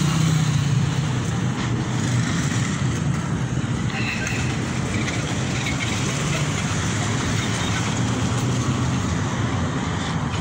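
Traffic rumbles steadily as vehicles pass beneath a highway pedestrian bridge in Tonalá, Jalisco, Mexico, a constant low roar with a person talking over it.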